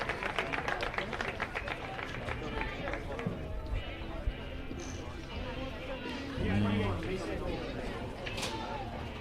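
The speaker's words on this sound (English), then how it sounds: "hear the applause from the Franklin fans" Franklin fans at a high school baseball county championship game clapping and cheering for a pitcher leaving the field, scattered applause and crowd chatter under nearby speech.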